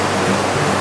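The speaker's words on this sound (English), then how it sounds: "this is where the water starts running along the Hezekiah's tunnel all the way to the Pool of Siloam." Spring water rushes into the ancient rock-cut Hezekiah's tunnel on its way to the Pool of Siloam, a steady, close, fairly loud broadband wash with no breaks and no voices.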